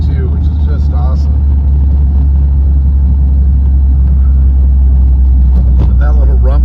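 Corvair engine in a barn-find belly tanker car, a loud, constant low rumble heard from inside the car as it drives, with a voice talking over it.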